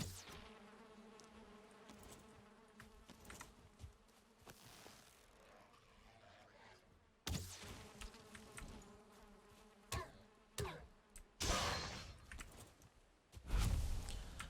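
Bees buzz around a beehive in the game Valheim, a steady insect drone with louder swells and a few sharper bursts in the second half.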